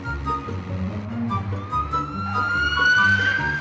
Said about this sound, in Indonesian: bunyi mobil polisi itu guys tadi.